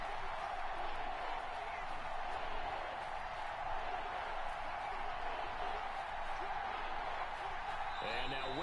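Steady stadium crowd roar from a Madden 21 football game, a dense continuous wash of noise filling the whole stretch, with a commentator's voice running over it.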